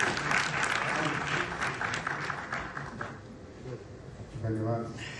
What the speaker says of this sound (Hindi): एक बार जोरदार तालियां बजाकर उनका स्वागत करें।